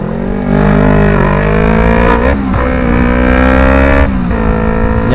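A Yamaha MT-25 running an Avionic full system exhaust pulls hard under acceleration, its loud close engine note climbing, dropping briefly at two gear changes, then climbing again.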